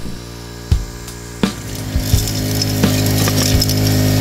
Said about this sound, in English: I like vacuuming rocks.